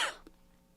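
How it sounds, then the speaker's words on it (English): A single short cough from one person, sharp at the start and fading quickly into near silence. "I'm going to cough for a second."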